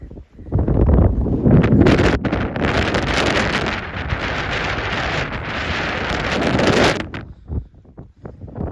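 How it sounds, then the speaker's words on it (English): Strong, steady wind buffets the microphone for several seconds with a loud broadband roar, easing off near the end. "It's very windy."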